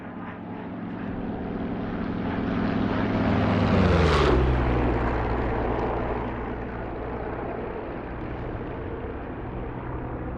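A P-47 fighter's piston engine in a flight sim game roars past in a single close flyby, swelling to a peak with a sharp pitch drop near the middle, then fading to a steady drone.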